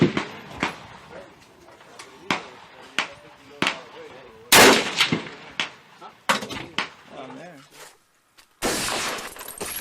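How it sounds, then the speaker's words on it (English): AR-15 rifle shots ring out as a series of sharp, loud cracks, irregularly spaced, with a heavier blast near the middle and a sustained burst at the end; a voice is heard between some shots. "I haven't had a chance to go out and shoot this gun"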